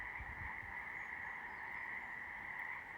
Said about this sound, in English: The frogs are loving this little pool back here.